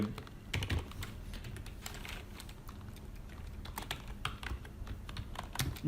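Rapid, uneven tapping on a computer keyboard while C++ code for a banking record program is typed, close and fairly quiet, with bursts of keystrokes and short pauses.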